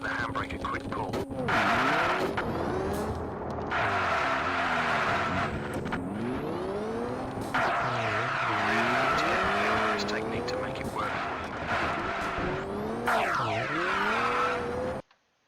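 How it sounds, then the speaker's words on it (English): Rally car in the Richard Burns Rally video game, pitched hard into a hairpin with a handbrake pull. Loud engine revs rise and fall through gear changes while tires squeal and skid repeatedly, with a person talking over the car throughout. "Before the corner, turn hard into it and give the handbrake a quick pull."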